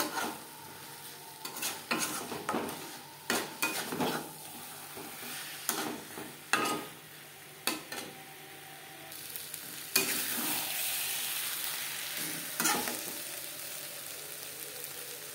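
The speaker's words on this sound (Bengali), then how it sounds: "মশলার সাথে আলু বেশ ভালো করে কষিয়ে নেওয়া হয়ে গেছে।" Potatoes frying in a pan with spices for Bengali egg curry over a medium flame, a steady sizzle broken by repeated scraping stirs of a spatula, close and alone.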